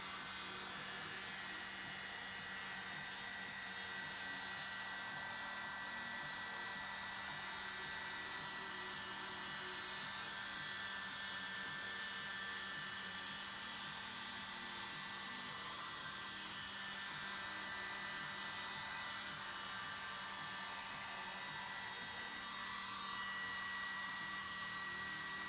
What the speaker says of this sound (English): Let's get baby blower going here.